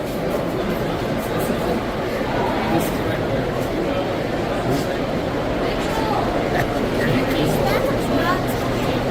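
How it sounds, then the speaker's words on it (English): A Rio Grande Z-scale model train runs at a busy train show, its faint rolling clatter blended into a dense, constant wash of crowd chatter and hall noise. "It's a really long train."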